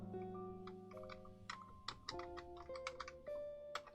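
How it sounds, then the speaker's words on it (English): Rapid, uneven keystrokes clatter on a computer keyboard, near and fairly crisp, layered over sustained background music tones. "Keyboard."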